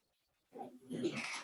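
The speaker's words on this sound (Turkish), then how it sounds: "Bu karakterin köpeği mi varmış ya?" A dog's soft whimpering and whining from the Toca Life World video game, starting after a brief silence and continuing in short, breathy, fairly faint cries without talk.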